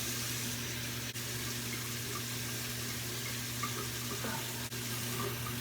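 A microfiber cloth is rinsed under a running sink tap, giving a steady, close hiss of flowing water with a constant low hum beneath it.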